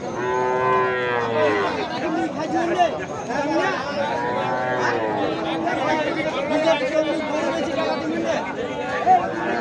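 Cattle, including Sahiwal cows, moo repeatedly, loud and close, with people chattering and a crowd murmuring throughout at a cattle market.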